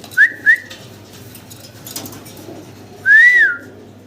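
Pigeons on a pigeon farm give clear cooing, whistling calls: two short coos close together, a pause with low background noise, then one longer, louder coo near the end, with no talk.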